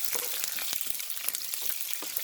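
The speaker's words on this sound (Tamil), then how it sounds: "உள்ளி போடுறேன் பச்சை மிளகாய்" Garlic and green chilli fry in hot oil for a squid curry, with a close, continuous crackling sizzle full of sharp spits.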